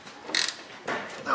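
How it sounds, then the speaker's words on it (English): A ratchet wrench works a bolt on a truck control arm, giving a few short bursts of rapid metallic clicking separated by brief pauses, close and fairly faint. "we'll stick a ratchet wrench on it"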